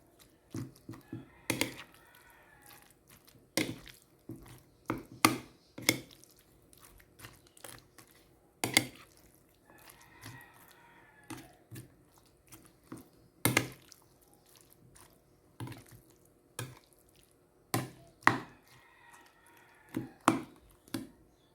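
Ground pork for bola-bola is mixed by hand with egg, onion, salt and pepper, giving close, quiet squishing and sticky slapping sounds in irregular bursts with pauses between them.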